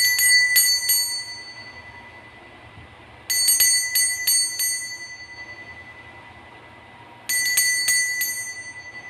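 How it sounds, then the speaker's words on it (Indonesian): A bright bell rings in three separate bursts, each a quick cluster of several strikes that ring out and fade before the next, alone and fairly close. "Kita akan memulai dengan ditandai lonceng berbunyi"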